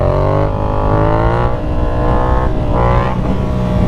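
Yamaha MT-07 (FZ-07) motorcycle engine revving hard and holding high revs during a wheelie attempt, a loud, steady roar with rising pitch and brief dips between throttle pushes, close up and alone.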